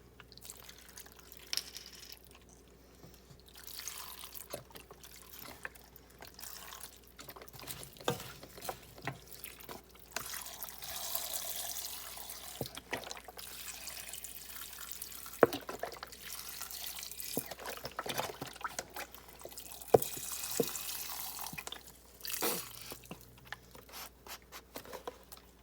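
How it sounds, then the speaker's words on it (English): Tap water runs and splashes into a cooking pot as two cups are added to a cheddar bacon potato soup. The flow is quiet and intermittent, with faint trickles and rubbing sounds and no talking. "And then I'm going to add some water to it."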